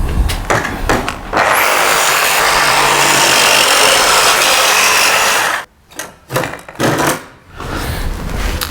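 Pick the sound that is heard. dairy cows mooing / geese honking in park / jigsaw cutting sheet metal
jigsaw cutting sheet metal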